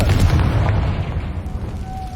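A Confringo blasting spell explodes in Hogwarts Legacy, a loud booming blast with a dense low rumble that stays heavy for about two seconds, with a thin high tone rising faintly near the end.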